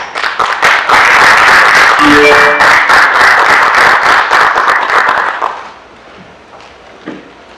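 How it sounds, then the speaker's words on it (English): Loud, dense applause and clapping from a film festival audience in Los Angeles fills the room for about five seconds, then fades out to quiet with a few scattered claps. "So please give them a round of applause"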